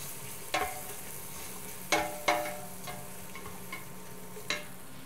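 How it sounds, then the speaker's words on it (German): A spoon stirs through a frying pan with garlic and white pepper, giving a handful of sharp scraping strokes over a steady low sizzle, close and alone. "Umrühren."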